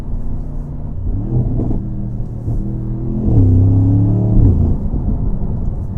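A Mercedes-AMG SL with a V8 accelerates, its engine note rising in a loud, close, droning surge that builds to a peak near the middle before easing into a steady cruise, heard from inside the car.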